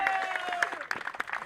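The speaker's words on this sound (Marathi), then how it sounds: "जोरदार टाळ्या होते" Crowd applause at a cricket tournament prize ceremony as the best batsman is announced, a burst of scattered clapping that stays moderately loud and uneven, mixed with voices from the gathering.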